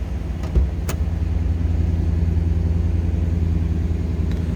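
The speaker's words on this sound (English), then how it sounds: "Well, you can hear the car run." A 1988 Chevrolet Camaro convertible with a 305 V8 idles steadily with a low, smooth rumble, joined by a couple of brief clicks near the start.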